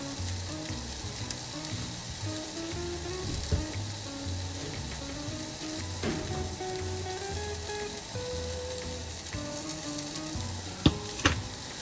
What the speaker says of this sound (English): I'm still caramelizing my onions.